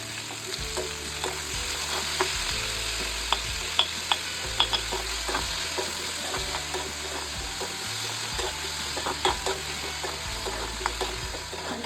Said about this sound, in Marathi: कांदा पण असा छान थोडासा फ्राय झाला की मग त्यामध्ये आपण टोमॅटो टाकायचं